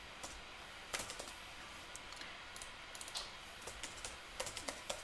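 Code typed on a computer keyboard for a Flutter app, a quiet, uneven patter of key clicks with occasional louder taps and brief pauses, close and alone without voices.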